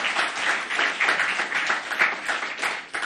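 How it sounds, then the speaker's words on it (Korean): A church congregation claps for youth and student group teachers during a Sunday service, a continuous crowd of hands at fairly close range, steady and full for several seconds. "박수 보내주시기 바랍니다"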